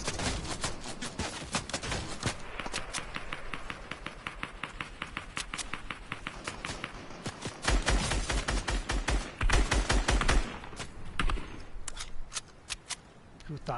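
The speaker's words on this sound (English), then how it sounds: "Oh, someone's shooting at me." Rapid gunfire in the battle royale game Fortnite, long strings of sharp, crackling shots in quick bursts, some near and loud, others fainter, with players talking over the shooting.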